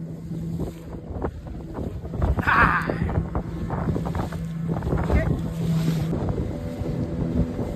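A boat engine hums steadily at sea off Malvan over wind buffeting the microphone and water splashing, while people talk loudly nearby.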